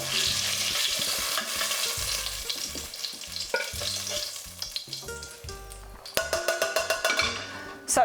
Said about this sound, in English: And then we're going to take them potatoes out. With a slotted spoon.